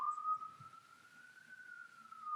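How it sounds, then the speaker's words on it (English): An ambulance siren wails on a New York City street, a single sustained, slowly rising and falling tone carrying steadily from behind, fairly clear against quiet low traffic rumble. "there's an ambulance making noise behind me"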